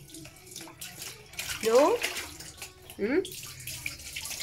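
Water splashes and pours from a basin during a pet's bath in hot summer weather, with two close sloshing pours over running water while someone speaks briefly.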